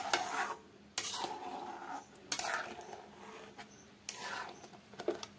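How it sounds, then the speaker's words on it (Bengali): A spoon scraping and knocking against a pan while potatoes are stirred with poppy seed paste for a village-style dish, in several separate bursts of clatter and scraping, fairly quiet and close, with no talk. "পোস্ত বাটাটা দিয়ে একটু নাড়াচাড়া করে নেব।"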